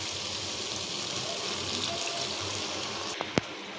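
Water added to spice paste frying in a pan gives a steady hissing sizzle throughout, with two brief sharp clicks near the end.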